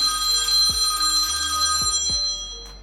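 A telephone rings loudly and close by, a steady electronic bell tone that cuts off after a few seconds.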